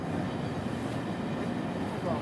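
A double-decker train rumbles steadily past at close range in Chicago, a continuous low roar of rail noise with no breaks.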